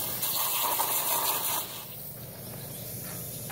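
Water gushing from a solar camp shower onto a hat being washed, a close steady splashing stream that eases off partway through.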